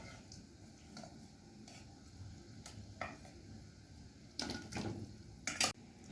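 Meat dropped into a hot pan of spiced masala sizzles and crackles steadily, with a few louder bursts of stirring and spatula scrapes against the pan near the end.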